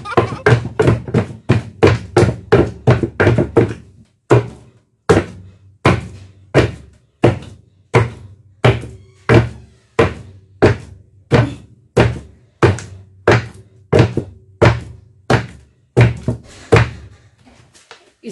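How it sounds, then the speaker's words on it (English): Yam pounded in a wooden mortar with a wooden pestle: a long, steady run of heavy, close thuds, about two per second, with a short pause early on before the rhythm resumes. "It's now time to start pounding."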